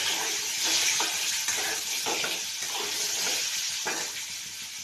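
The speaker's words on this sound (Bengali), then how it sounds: "আলুগুলো ছেড়ে দিচ্ছি, তেলে একটু ভাজা ভাজা হয়ে যাবে" Potatoes fry in hot oil in a pan with onions and dal, giving a dense, close, steady sizzling hiss that holds for the whole stretch and fades slightly at the end, with no voices.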